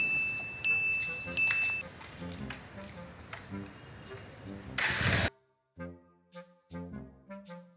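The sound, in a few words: two-wheeler engine starting then stalling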